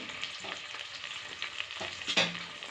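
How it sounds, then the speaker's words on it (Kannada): Chopped tomato frying with onion and curry leaves in a pan for tomato bath, a steady close sizzle with a few scraping stirs and a brief louder hiss near the end; no voices. "ಈಗ ಅದಕ್ಕೆ ಕಟ್ ಮಾಡ್ಕೊಂಡಿರೋ ಒಂದು ಟೊಮೆಟೊನ ಹಾಕ್ಕೊಳ್ತಾ ಇದ್ದೀನಿ"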